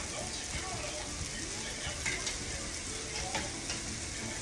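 Onions sauté in a pan, a dense continuous sizzle and crackle with faint scraping of stirring, close and steady, with a murmur of voices underneath.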